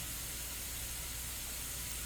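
Steam hisses out in a steady, broadband rush as a pressure cooker of beef for Yemeni fahsa is eased open slowly, a constant close hiss with no talking over it.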